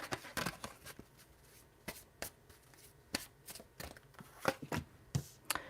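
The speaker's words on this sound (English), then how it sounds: "And one of these angel abundance cards I'm going to pull." Angel abundance oracle cards being shuffled and pulled, a run of crisp, papery riffles and slaps in irregular bursts, close and fairly quiet, with no talking.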